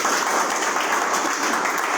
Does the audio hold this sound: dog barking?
no